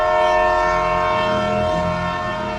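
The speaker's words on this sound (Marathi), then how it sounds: "ट्रेनचा आवाज म्हणजे ट्रेनचा हॉर्न जोरात वाजला" A train horn blares loudly at a railway station in Pune, one sustained tonal blast over a low rumbling engine, close and dominant, with no talking.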